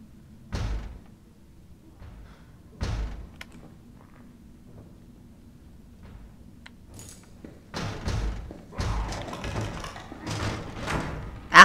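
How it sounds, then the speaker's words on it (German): A door being broken open in Resident Evil 3 Remake, heard as a few separate heavy thuds and slams, then a denser burst of banging and cracking toward the end. "Sind die jetzt die Tür am Aufbrechen oder eine andere?"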